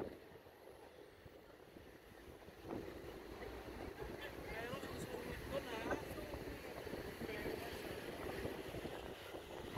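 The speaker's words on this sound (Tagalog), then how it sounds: "Malakas ng hangin kasi ano, nagbabadya na naman umulan." Steady strong wind buffeting the microphone throughout at Manila Bay's dolomite beach before rain, with a faint rumble and distant water underneath.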